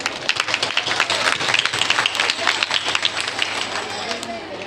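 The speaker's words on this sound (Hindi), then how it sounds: "जोरदार तालियां।" A church congregation claps at an Easter Mass gathering, a dense, uneven patter of many hands running steadily throughout, with some crowd murmur underneath.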